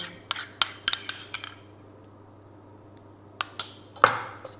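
A spoon clinks against a bowl in a few quick taps while stirring egg and sour cream, a pause of quiet, then more clinks and a scrape.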